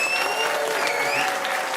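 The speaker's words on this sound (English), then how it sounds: "Give him a round of applause." An audience claps loudly and steadily, a dense wash of applause filling the whole moment with a few whoops mixed in.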